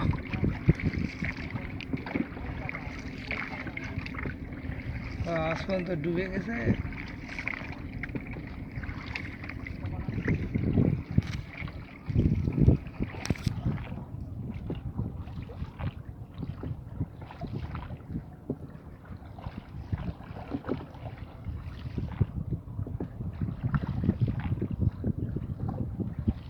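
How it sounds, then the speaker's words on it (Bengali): Wind-driven waves slap and wash around a boat out on a wide beel, with steady wind buffeting the microphone throughout and people talking now and then. "বাতাসের কারণে ঢেউ হচ্ছে"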